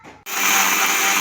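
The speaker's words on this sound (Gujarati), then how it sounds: "મિક્સર ચાલુ કર" A kitchen mixer grinder grinding turmeric-yellow lentils starts abruptly after a brief pause and runs as a loud, steady, high whirring roar until the end.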